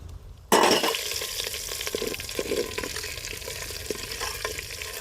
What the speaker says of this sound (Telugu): ఆవాలు దోరగా వేగినాయి